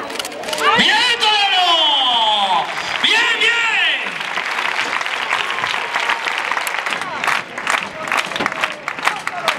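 Spectators at a recortes bull-dodging contest in Aldeadávila break into applause and cheers, with loud shouted voices at first, then a swell of dense clapping and crowd noise.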